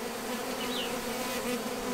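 Honey bees drone in a steady, continuous buzz close by while a hive is opened and inspected in a bee yard, with no talking over it.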